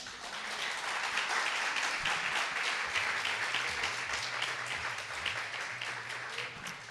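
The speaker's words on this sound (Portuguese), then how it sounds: "Dê uma salva de palmas ao Senhor" A church congregation applauds, a steady wash of clapping from many hands that fills the room throughout, with a low hum underneath and no voices over it.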